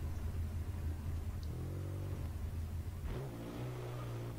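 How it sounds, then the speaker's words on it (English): An off-road vehicle with a Pentastar V6 engine strains to climb a hill in Gmod, a steady loud engine rumble that revs up and shifts pitch twice, with no talk. "it's running on the Pentastar V6, which is the same engine my mom's van has"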